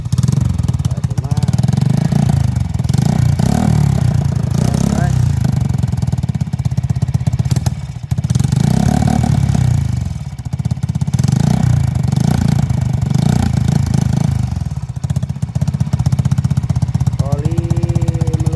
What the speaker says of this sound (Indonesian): Kita nyalakan motornya nyala.